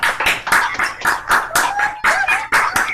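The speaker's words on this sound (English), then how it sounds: "Can we have a round of applause?" Audience of an online synagogue concert clapping after unmuting, a few close individual claps in uneven bursts over home microphones, with a faint tonal sound briefly in the background.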